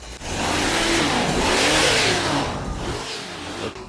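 A large chainsaw engine revs hard and holds a loud, steady high whine for several seconds before easing off near the end, close by with no talk.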